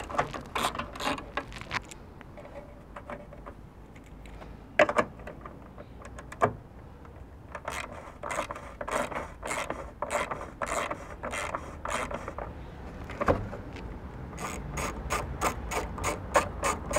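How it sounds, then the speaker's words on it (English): A 10 mm ratchet wrench clicks in quick bursts while a wing mirror is being removed, with close, sharp, repeated ratcheting strokes and short pauses between runs and no talking. "10 millimeter ratchet or wrench, as you may call it."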